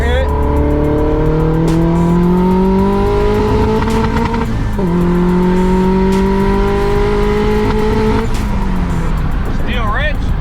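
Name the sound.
Honda Prelude with built H22 engine accelerating in third gear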